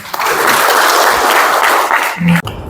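An audience at a forum lecture bursts into loud, dense clapping that holds steady before tapering off abruptly at the end.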